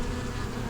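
Dense, steady buzzing of many honey bees right at a crowded beehive with a brood box nearly full, a continuous close drone with no pauses and no talk.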